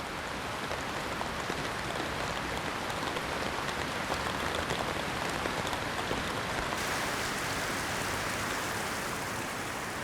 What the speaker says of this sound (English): In Odaigahara, it doesn't just rain. Large water drops explode out of the clouds.